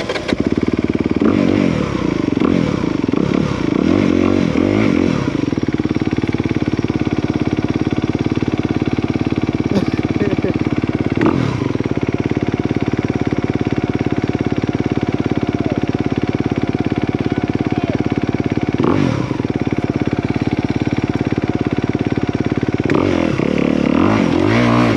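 A 2022 Honda CRF 250R dirt bike rides a trail with a loud, close engine that drones steadily throughout, with the pitch rising and falling as the throttle changes and some rattling and scraping over rough ground.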